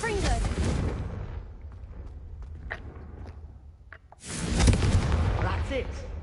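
Confringo fire spell blasts in the video game Hogwarts Legacy: a loud, broad burst opens, fades into a quieter stretch with scattered faint crackles, then a second forceful fiery blast surges in and rumbles on to the end.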